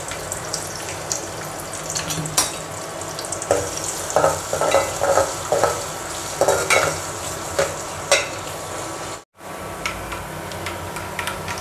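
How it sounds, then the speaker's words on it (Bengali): Garlic and onion frying in a pan with steady, close sizzling and repeated spatula stirring scrapes and taps, and a brief dropout near the end before the sizzle resumes. "এখন দিয়ে দেব রসুন আর পেঁয়াজ।"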